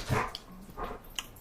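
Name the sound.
dogs barking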